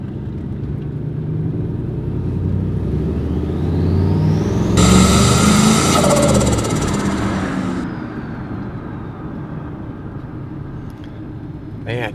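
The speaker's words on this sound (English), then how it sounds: "I wanna hear my turbo." A turbocharged Chevrolet Silverado revs hard, its engine rumble swelling with a loud, high turbo whine that holds for a few seconds before easing off. Someone talks over the engine noise.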